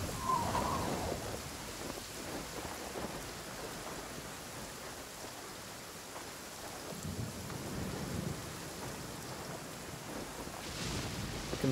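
Steady rain pours with low rolling thunder during a thunderstorm in the video game Genshin Impact, the rumble swelling near the start and again later under constant hissing downpour, with no voices.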